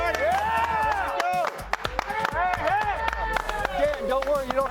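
Studio audience clapping on a sports talk show, lively sharp claps running throughout at close range, mixed with cheering and people talking over it.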